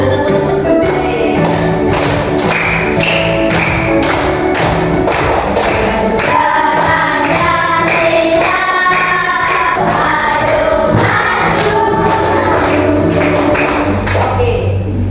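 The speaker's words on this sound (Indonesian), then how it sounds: "Boleh sambil tepuk-tepuk juga boleh." Children in a classroom sing a patriotic song together while clapping along in a steady rhythmic beat, voices and hand claps mixed loudly throughout.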